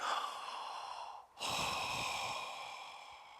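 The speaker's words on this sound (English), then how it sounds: "Go to your room and sit down and take like 7 deep breaths." A long, slow inhale and exhale through the nose, followed after a short pause by a louder, deeper breath, heard up close in a quiet room.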